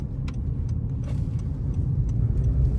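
A 2025 Honda CR-V LX drives and picks up speed, its steady low engine and road rumble filling the cabin, with a few faint ticks and rattles over the top.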